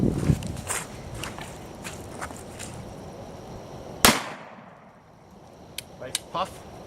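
A single sharp gunshot from a Model 1879 Cavalry Reichsrevolver firing a full load, loud and close, followed by a quick decay, with footsteps and handling noise before it and a few small clicks afterward.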